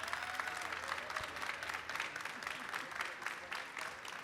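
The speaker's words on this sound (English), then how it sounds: "I please invite a very warm round of applause for our residents." A warm round of audience applause for film program residents at a pitch event, dense sustained clapping throughout with light crowd murmur.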